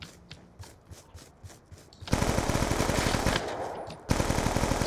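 Automatic gunfire in the Call of Duty video game, a rapid rattling burst that starts faint and then turns loud and sustained with a second strong burst near the end, no talk.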